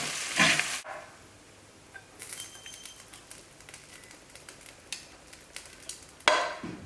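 Pasta being stirred in a hot pan, a soft scraping and light sizzle with a few sharper clinks of the utensil, fairly quiet and close.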